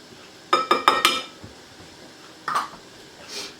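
Semolina and gram flour being mixed in a bowl for Maggi pakoras: a quick burst of four metallic clinks and scrapes from a utensil, then a pause and a couple more softer scrapes.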